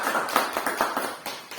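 A worship congregation claps for God in a church service, a rapid burst of loud, irregular hand claps in quick succession with no voices.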